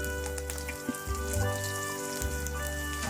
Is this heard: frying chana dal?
yes